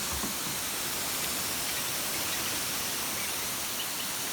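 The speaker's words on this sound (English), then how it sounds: "It's time for a shower." A water shower sprays steadily over farm animals, a dense continuous hiss with no breaks, close and even throughout.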